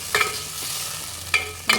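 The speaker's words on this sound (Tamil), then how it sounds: "தக்காளி சேர்த்து நல்லா வதக்கிக்குங்க" Chopped tomatoes sautéing in a pan for Chettinad lentil dumpling curry, with a close steady sizzle and a few sharp stirring scrapes, and no one speaking.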